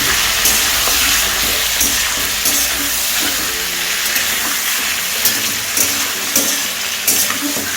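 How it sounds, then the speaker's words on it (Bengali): Chicken pieces frying on a high flame until browned, a loud, dense, steady sizzle with faint scraping stirs, close and continuous with no talk. "এবার চিকেনটাকে আমি একটু ব্রাউন করে ভেজে নেব।"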